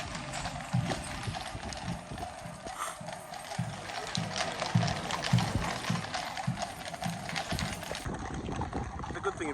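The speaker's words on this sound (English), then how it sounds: "here we've got the boys on the horses coming back in" Several horses carrying mounted guards clip-clop past in a busy London street, their hooves making a steady, rhythmic clatter at moderate distance amid crowd and traffic noise.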